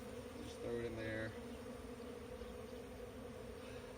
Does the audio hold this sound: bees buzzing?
yes